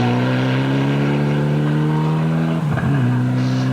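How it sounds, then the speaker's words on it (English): Rally car engine over-revving hard into a corner on a gravel stage at Rally Southland in New Zealand, loud and close, with a steady high drone that dips and stutters briefly before picking up again. "Chris West had a computer problem, which meant his car was over-revving going into the corner and understeering badly"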